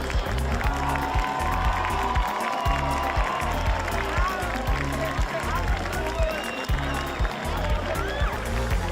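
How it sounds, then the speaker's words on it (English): Crowd applause and cheering for seniors at a high school football game, a steady dense wash of clapping with thumping low band or field noise underneath throughout. "let's hear another big round of applause for all of our seniors and"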